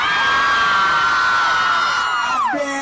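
A large crowd at a 2004 dancehall clash concert screams and cheers in one loud, sustained roar that dips and fades near the end.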